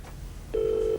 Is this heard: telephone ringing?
yes